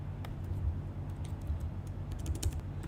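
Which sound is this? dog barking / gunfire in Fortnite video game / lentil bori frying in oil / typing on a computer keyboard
typing on a computer keyboard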